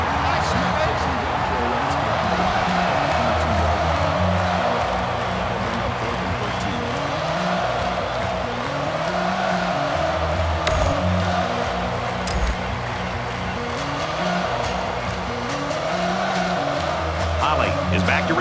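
A college football stadium crowd at Purdue versus Northwestern roars in a constant broad wash of cheering, loud and sustained, with a commentator talking over it.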